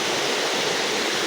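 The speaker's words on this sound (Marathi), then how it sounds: "एकदम झाडे बिडे धबधबे होते छोटे छोटे" Small waterfalls among trees at a temple site in a natural setting near Wada, Rajgurunagar, giving a steady, full rush of falling water that stays even throughout, with no voices.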